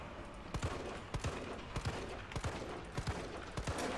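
Gunshots are fired in the video game Resident Evil 3 Remake, about nine evenly spaced booming reports roughly every half second over a low background rumble, fairly quiet in the mix.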